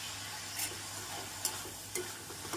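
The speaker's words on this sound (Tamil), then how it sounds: "நாம் நறுக்கிய பூண்டை சேர்த்து விடலாம்." Chopped garlic added to frying onions, curry leaves and green chillies in a pan for a Tamil dried-fish thokku, giving a low steady sizzle with a few brief stirring scrapes, with no talking.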